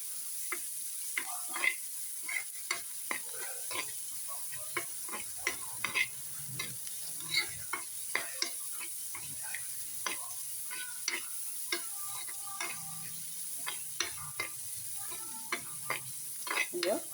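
Ginger, green chilli and beans frying in coconut oil and ghee in a pan for corn upma, giving a faint steady sizzle broken by frequent scraping stirs of a spoon.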